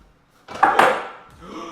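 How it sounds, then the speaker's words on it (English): Beef and noodles tumble from a cardboard takeout container into a bowl in one short, close, soft clattering dump lasting under a second, with no talk. "I'm gonna dump it straight into the bowl."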